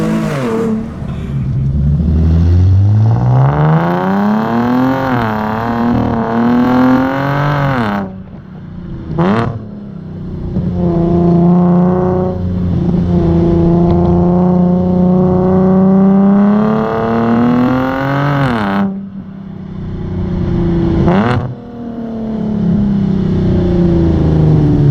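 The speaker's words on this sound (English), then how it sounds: "This does have a custom exhaust, but it shows you what these cars are capable of sounding like" A Nissan 370Z with a custom exhaust revs hard up close, its loud engine note climbing and dropping in several long sweeps with brief pauses between them.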